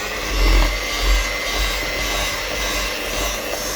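An electric mixer runs at medium-low speed through chocolate cream cheese filling, producing a steady motor hum with slight surges in load, close up and without voices.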